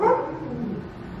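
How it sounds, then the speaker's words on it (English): Dogs barking indoors, a short, fairly loud burst at the start that trails off into a lower, continuing yap or whimper. "These stupid dogs."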